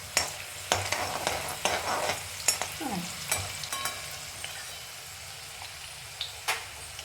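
Chana dal and urad dal fry in oil in a pan with a soft, steady sizzle, broken by scattered scrapes and clinks of a stirring spoon, close and fairly quiet.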